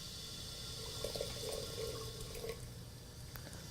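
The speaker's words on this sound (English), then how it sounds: "For example, you can hear this sound, hot water boiling" Fresh water is poured into a boiling kettle during a Japanese tea ceremony at a tea house in New York City, giving a steady, close, moderately quiet trickle and splash of water with no talking.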